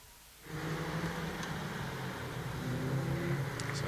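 Caterham race cars head out onto the Croft circuit, their engines rising from near quiet into a sustained, distant buzzing roar with a faint tonal whine.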